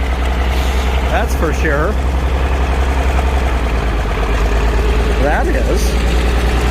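A Farmall tractor engine idles with a steady low rumble throughout, while people talk nearby over it.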